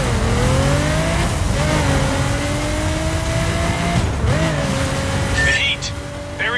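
A car accelerates hard during a chase in the racing video game The Crew, its engine note climbing and shifting through gears, loud and close with a brief tire squeal and voices over it.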